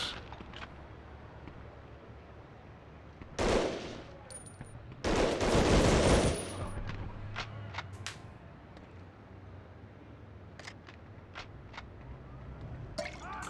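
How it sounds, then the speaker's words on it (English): Two short bursts of mounted machine-gun fire in the World War II shooter Medal of Honor: Underground, each lasting about a second, loud against a steady low game background with faint scattered clicks. "The mounted machine gun is the way to go."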